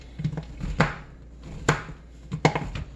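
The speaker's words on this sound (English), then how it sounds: "there's something so satisfying about chopping up bars of chocolate. Just the crunch of the chocolate." Knife chopping through bars of chocolate for triple chocolate chunk cookies: three sharp, crunchy cuts spaced about a second apart, each with a brief crackle of breaking chocolate, close and fairly loud with no talking.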